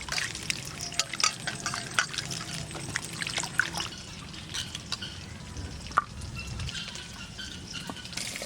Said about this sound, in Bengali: পেঁপেগুলো ধুয়ে নেব,